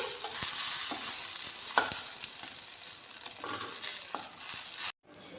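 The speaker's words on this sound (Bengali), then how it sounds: "আমি এবার বেগুনগুলো ভেজে নিচ্ছি।" Eggplant frying in a pan, a steady hiss of hot oil with occasional soft utensil taps that cuts off abruptly near the end.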